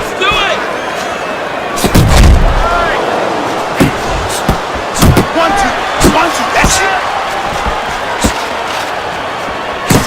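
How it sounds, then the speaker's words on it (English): Sharp impact thuds from punches and blocks in a boxing video game, several loud hits spaced unevenly over a steady crowd murmur, with a commentator talking throughout. "That was a fine block by Marvelous."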